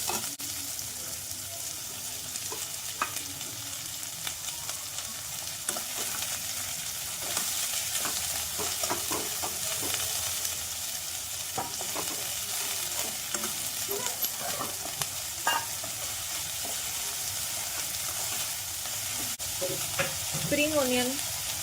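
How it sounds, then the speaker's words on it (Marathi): Garlic, onion and capsicum stir-fry over high heat for gobi manchurian fried rice, giving a loud continuous sizzle and frequent scraping of the spatula against the pan throughout, with no voices. "सगळं मोठ्या गॅसवर परतवून घ्यायचं।"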